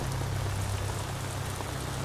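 Steady rain pours down on rocky mountain cliffs, a dense, continuous hiss with a low rumble beneath, close and even throughout with no voices.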